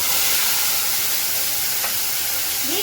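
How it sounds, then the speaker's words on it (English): Tomato slices hit hot oil in a pan, giving a steady loud crackling sizzle and hiss that fills the whole moment without voices. "So now it is heated, so now we will add our tomato slices."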